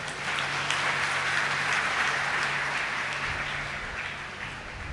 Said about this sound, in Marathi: एकदा जोरदार टाळ्यांचा गजर